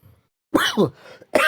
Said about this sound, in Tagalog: Oh, inuubo na tayo guys.